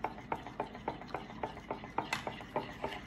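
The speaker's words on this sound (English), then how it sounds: "So we'll go ahead and get this mixed all up." Hot sauce being mixed into a Cajun dipping sauce: quick regular clicks of a utensil stirring in a bowl, about three per second, faint and close with no voices.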